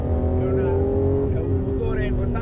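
A Ferrari Testarossa's flat-12 engine revs and drones with a steady, deep roar, loud and close, with someone speaking over it throughout.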